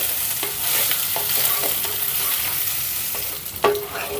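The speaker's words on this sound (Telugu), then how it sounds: "ఇప్పుడు స్టవ్ని మీడియం ఫ్లేమ్లో పెట్టుకొని ఒక 2 నుంచి 3 నిమిషాల పాటు ఫ్రై చేసుకుందాం." Half a kilo of boneless chicken fries in a pan with a little oil over a medium flame. A steady, close sizzle runs throughout, broken by a few light clinks of stirring, with no talking.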